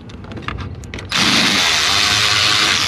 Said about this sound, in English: it wouldn't be my video without a power tool